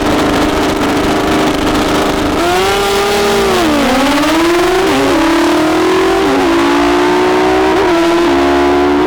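High-powered drag racing motorcycles launch hard in the final round of a heads-up drag race at Toronto Motorsports Park, Canada. Loud, close engines scream upward, with several sharp shifts and falling pitch steps, and no talking.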